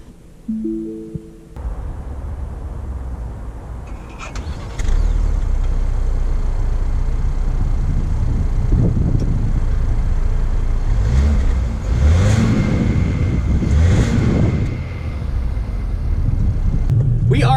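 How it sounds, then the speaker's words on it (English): 2019 Lincoln Nautilus SUV with a quiet engine hum at the start, then a steady louder rumble as it pulls away and keeps driving, with swells of acceleration and road noise under faint cabin sounds. "let's take the 2019 Nautilus out to see how it drives"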